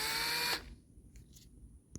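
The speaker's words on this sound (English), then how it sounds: "I'm going to use one of these stepper drills like this, and I'm going to drill it enough to where I can get a tap in there." A step drill bit grinds through a hole for vapor lines on a homemade charcoal EVAP canister, a loud high whine for about half a second before it abruptly stops, leaving quiet room tone.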